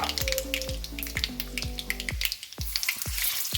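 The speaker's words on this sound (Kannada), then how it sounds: "ಎರಡು ಚಮಚದಷ್ಟು ಕಡಲೆಬೇಳೆ ಎರಡು ಚಮಚದಷ್ಟು ಉದ್ದಿನಬೇಳೆ ಹಾಕ್ಕೊಂಡು ಲೈಟಾಗಿ ಫ್ರೈ ಮಾಡ್ಕೊತೀನಿ" Chana dal and urad dal fry in hot oil with a steady close sizzle and crackle, broken by a few soft clinks and drip-like taps as they are stirred.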